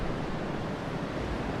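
Wind blowing across a dark outdoor area in the video game Zelda: Twilight Princess HD, a steady, loud broadband rush with no pauses or talk.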